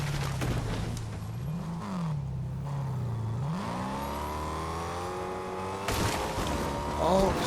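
A car in the video game Fortnite drives with a steady engine drone that rises in pitch as it accelerates, a tire popping partway through, then a brief clatter near the end.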